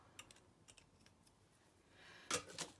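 Scissors snipping recycled packaging, a few quiet crisp clicks and cuts close by, ending in two louder sharp snips.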